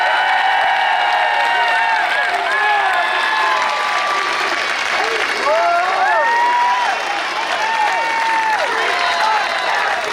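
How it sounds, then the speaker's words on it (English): Steady applause and cheering from a large crowd at the closing ceremony of the 2021 Solheim Cup golf event, honoring both teams; a continuous wash of clapping with whoops rising over it, loud and sustained throughout. "Let's have one more round of applause for both teams"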